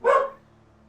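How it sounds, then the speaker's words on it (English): A pet dog named Emmy gives a single loud, close bark lasting a fraction of a second, then quiet room hum with no talking. "Why is she barking?"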